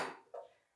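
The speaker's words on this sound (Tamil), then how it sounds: "தேவையான வடை சட்டி அடுப்பில் வச்சுட்டு அடுப்பு பற்ற வச்சுக்கலாம்" A frying pan for tempering is set down on a kitchen stove, giving one brief, faint metallic clunk that follows a softer fading scrape.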